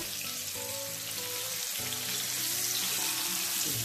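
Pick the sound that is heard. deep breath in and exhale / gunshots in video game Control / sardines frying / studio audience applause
sardines frying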